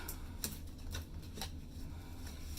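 Cardboard envelope box being ripped open by hand, a few sharp tearing and crinkling bursts spread across the moment over a steady low background hum, close and fairly quiet.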